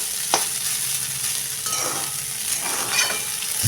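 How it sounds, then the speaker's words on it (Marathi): Leftover cooked rice being stir-fried for lemon rice in a hot pan gives a steady sizzle with scraping, stirring strokes repeating throughout, close and fairly loud. "आता आपण एकसारखा परतत राहूया."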